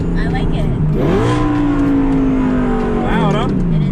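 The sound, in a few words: supercar engine revving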